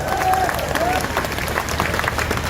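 An audience applauds steadily at a public gathering, a dense wash of clapping filling the whole moment with no pauses.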